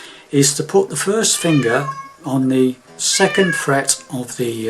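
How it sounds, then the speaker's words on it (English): Pet cats meow and yowl loudly and close by in a room, several drawn-out cries that overlap a person talking. "Sorry about my cats decided to arrive and sing."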